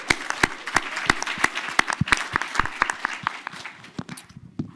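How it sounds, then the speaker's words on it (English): Conference audience at a women's tech summit applauding, a modest, close round of distinct hand claps that starts fairly full and thins out toward the end, with no talk over it. "Let's give them a round of applause."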